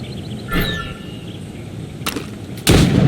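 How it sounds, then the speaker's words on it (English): Gunfire at stationary targets during a shooting drill in the video game Assassin's Creed Rogue: a few separate loud shots with quiet gaps between them, the last one strongest and trailing into a sustained burst. "Shoot these targets."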